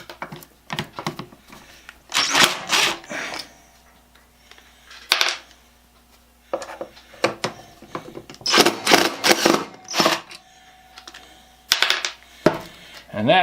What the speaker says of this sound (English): And that, Louie, is why we have these little impact drivers.